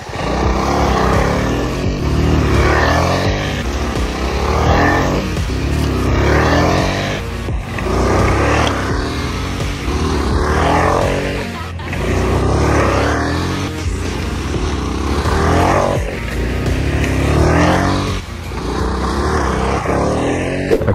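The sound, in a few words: tractor working on a field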